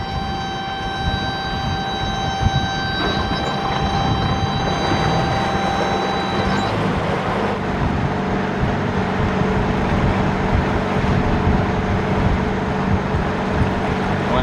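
An old boat engine runs at a steady drone, with a constant mechanical rumble and whine holding throughout and a faint tonal hum fading partway through, and no one speaks.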